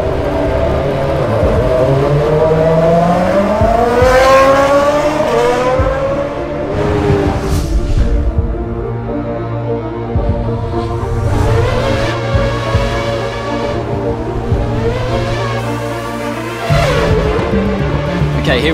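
A Formula 1 car from the F1 2013 game laps the anti-clockwise Interlagos circuit in Brazil, its high-pitched engine screaming through rising gear changes, dropping on braking and climbing again on acceleration.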